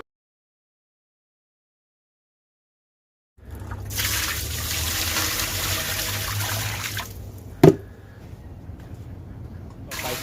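Stored, chlorine-free tap water is poured into a snail pond, making a steady rushing splash that starts after a few seconds of silence, runs for about four seconds, then thins out with one sharp knock near the end.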